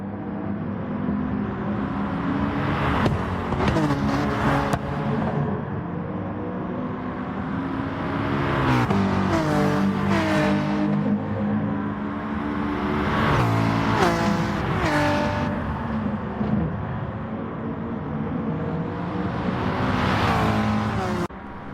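Race car engines roar in a Gran Turismo Sport race at the Sainte Croix circuit. Loud sustained engine whine rises and falls through repeated upshifts, with several cars close together.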